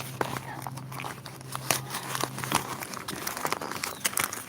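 Packaging holding water/coolant plugs for a 9th-generation Toyota Corolla Altis is handled and opened, giving close, irregular crinkling and crumpling with sharp rustles and snaps spread through the clip.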